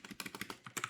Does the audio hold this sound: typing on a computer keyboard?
yes